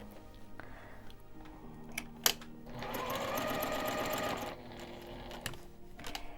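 A sewing machine stitches around the edge of a fabric coaster with batting, running steadily for about two seconds after a few light clicks, with quiet handling before and after.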